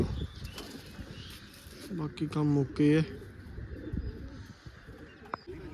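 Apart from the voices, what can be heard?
pigeons flapping wings and cooing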